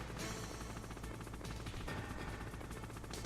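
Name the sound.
boss firing rockets in Metal Gear Solid video game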